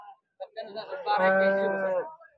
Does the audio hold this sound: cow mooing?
yes